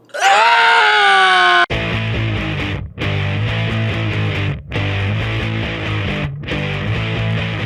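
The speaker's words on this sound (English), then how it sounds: "Scream into your pillow." A person screams at length into a pillow, a loud, sustained, muffled wail that breaks briefly for breaths and then resumes, close and raw, with no other sound around it.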